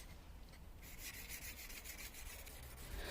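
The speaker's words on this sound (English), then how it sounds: "I'm just using my diamond plates" A No.080 scraper blade being sharpened on diamond plates, a steady close rasping rub that grows brighter and pulses with back-and-forth strokes after the first moment, quiet and with no talking.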